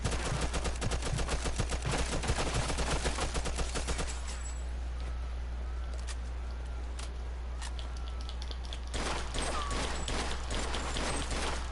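Gunfire in the gangster game Mafia 2, a rapid, loud stream of automatic shots that stops, leaving a brief lull before another short burst, all over a steady low background hum.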